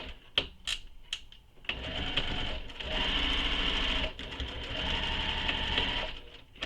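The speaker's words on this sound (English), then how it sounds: "you'll sew the bottom across the bottom with the seam allowance given in the pattern" A sewing machine stitches a seam across the bottom of a fabric backpack. A few quick clicks come first, then two sustained runs of fast, even whirring with a short pause between them, close and clear.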